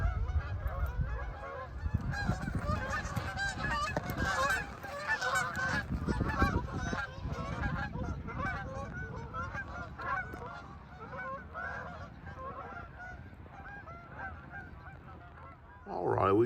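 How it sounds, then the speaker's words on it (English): A large flock of geese by the Ohio River honks in a dense, continuous clamor that gradually thins as the birds fly off, heard from a moderate distance. "Just scared about 300 geese off."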